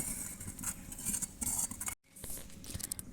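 Goat soup bubbling in an iron pan over a wood fire as it is stirred, with scraping, light clinks and patter of the spoon against metal, continuous and close, with one brief silent gap.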